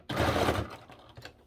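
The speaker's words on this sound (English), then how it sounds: "Back stitching, coming forward again, and back stitching." A sewing machine back stitching fabric for a tabletop Christmas tree runs in a short, fast, buzzing burst up close, then slows and fades into softer intermittent ticks.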